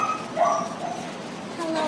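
Dogs at an animal control shelter, with short yips and whimpering barks rising over a busy, echoing kennel background, fairly close, with some chatter mixed in.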